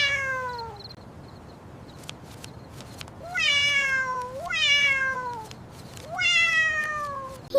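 A cat gives a string of loud, drawn-out meows, four distinct calls spaced a second or so apart with a few fainter ones at the start, heard close up against a quiet background.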